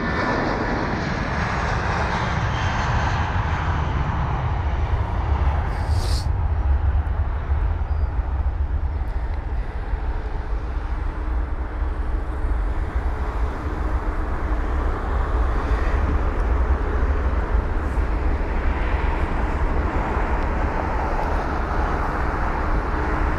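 Airbus A320-200 (A320ceo) airliner at London Heathrow, a continuous distant jet engine roar with a steady broadband rumble holding throughout, no talk.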